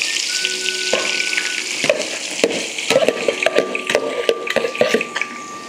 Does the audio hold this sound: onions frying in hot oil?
yes